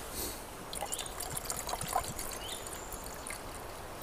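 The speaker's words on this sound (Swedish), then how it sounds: "Vatten till kaffe här." Water poured for Turkish coffee, a steady trickling stream with faint splashy dribbles, close and quiet, lasting the whole moment with no talk.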